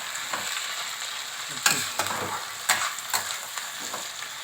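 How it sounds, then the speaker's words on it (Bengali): Onions frying in oil for a mushroom curry, with a steady close sizzle broken by several sharp clicks and scrapes of a spatula stirring the pan, no voices. "একটু তেল দিলাম এবার এটাকে ভালো করে কষতে হবে"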